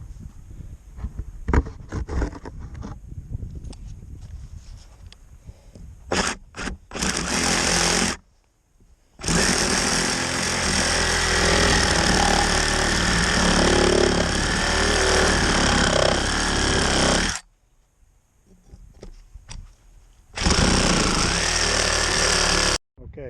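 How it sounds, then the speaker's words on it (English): A reciprocating saw cuts through retaining wall timber, a harsh buzzing rasp in two long close bursts, the first about eight seconds, the second about three seconds, after scattered knocks and brief starts. "took a little bit more out of there with the reciprocating saw"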